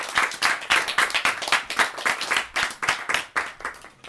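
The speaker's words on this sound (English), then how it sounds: "Ladies and gentlemen, another round of applause for Mr." An audience at a poetry reading applauds, dense rapid hand clapping from a room full of people, loud and sustained for several seconds without a break.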